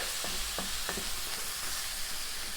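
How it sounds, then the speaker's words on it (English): Ground meat browns in a pan for Tex-Mex rice over medium heat, a steady soft sizzle with a few light scrapes of stirring near the start. "Stirring this occasionally. I want to brown up that meat a bit."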